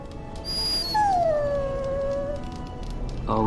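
A dog in Dragon Age: Origins lets out a long, mournful howl that slides downward and sustains for over a second, loud and close, preceded by a brief higher whine.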